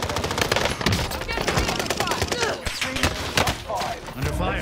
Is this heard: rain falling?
no